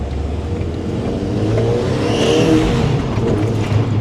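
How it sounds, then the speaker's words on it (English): Road noise inside a moving Audi TT with poly bushings: a steady, loud low rumble and drone that fills the cabin throughout with no break. "you can really hear the road noise now"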